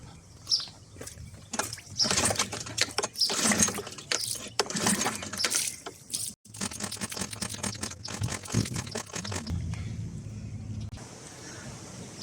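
A Mercury 3.5 HP four-stroke outboard engine with a blocked main jet and stuck float needle won't start. The recoil starter is pulled repeatedly in bursts of mechanical rattling and whirring, with no steady running tone.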